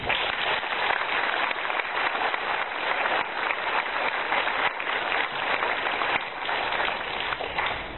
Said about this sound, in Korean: 우리 선교사님 나오실 때 우리 감사의 박수로 환영하겠습니다